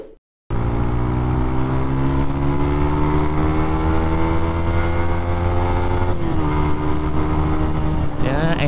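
A motorcycle engine runs steadily and fairly loudly, holding an even drone with a slight pitch shift near the end.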